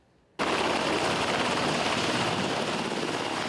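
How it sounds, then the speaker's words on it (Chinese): A military helicopter's rotor noise on a navy ship, the Yushan, during flight deck landing drills: a loud, steady, broadband roar that starts abruptly after a short silence and keeps going without a break. "这么大的普鲁佩达声音嘛真大"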